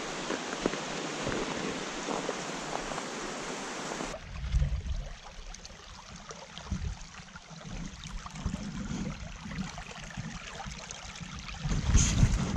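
A small river on a winter hike in the White Mountains rushes with a steady broadband wash, first hissy and bright, then deeper and rumbling as the mic moves, with wind buffeting throughout.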